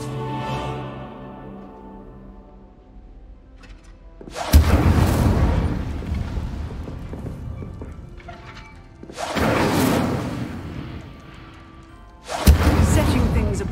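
Fiery Incendio spell blasts from Hogwarts Legacy striking practice targets: three loud booming bursts with rushing flame tails, spaced a few seconds apart, over a quiet musical background.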